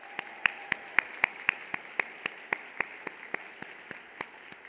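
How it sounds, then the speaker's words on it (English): Sparse, evenly spaced claps ring out at a formal awards event honoring women, roughly a dozen sharp hand claps over a few seconds, fairly close and alone with no talk. "Let's give them a round of applause."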